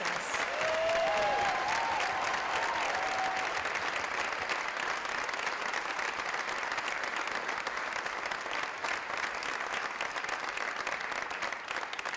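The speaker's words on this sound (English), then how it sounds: "Please give a huge round of applause to all of our Timberlane students in Project Hope" An audience at a Project Hope charity fashion show applauds students, with broad, continuous clapping from a large crowd holding steady throughout, a few brief whistle-like tones rising early.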